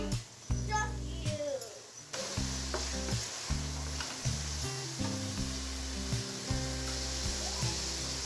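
Shrimp fry in a pan with turmeric, chili powder and mixed spices, making a loud close sizzle broken by stirring scrapes, while someone talks throughout.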